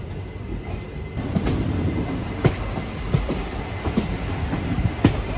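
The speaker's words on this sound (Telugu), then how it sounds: "ఇప్పుడు మన ట్రైన్ పావు మెలికలు తిరుగుద్ది, ఎందుకంటే ఘాట్ ఎక్కుతుంది కదా" The Goa to Tirupati Express climbs the winding ghat section near Dudhsagar. A steady rumble of rolling coaches is heard from on board, with rhythmic wheel clacks at rail joints and occasional sharp knocks, and no talk.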